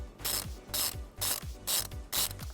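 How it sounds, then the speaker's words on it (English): A hand ratchet fitted with a 10mm socket loosens the nut on a car battery's positive post, clicking out about five quick, evenly spaced strokes up close. "we're going to remove it using a 10mm socket"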